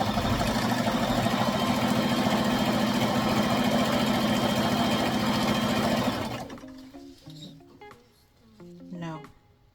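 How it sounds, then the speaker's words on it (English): Sewing machine stitching ribbon onto a tutu skirt: a steady, loud, fast mechanical whirr running continuously for about six seconds, then stopping, after which a person speaks briefly. "I'm gonna go ahead and sew it"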